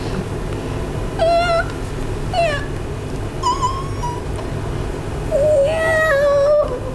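A person mimics a cat, giving several separate meow-like cries, some short and one drawn out, clear and close over a steady low room hum with no other talk.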